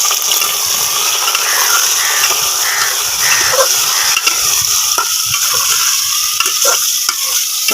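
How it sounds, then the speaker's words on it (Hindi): Chicken pieces sizzle loudly and steadily in a pan of browned onions for a chicken and potato dish, with scraping stirs cutting through the constant frying hiss. "इसमें हम डाल देंगे अपना चिकन। इसको भी अच्छे से फ्राई कर लेंगे।"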